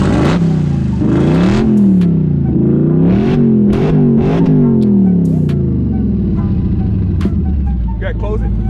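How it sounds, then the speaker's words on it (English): A Procharged Dodge Challenger 392 SRT with QTP exhaust cutouts open, venting out the side, revs loud and close in repeated rising and falling sweeps, then eases back to a rough idle. "The exhaust is coming out the side here."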